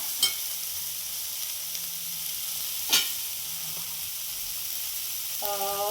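Upma ingredients with a little salt fry in a pan, a steady close sizzle broken by a few sharp scraping stirs of the spoon.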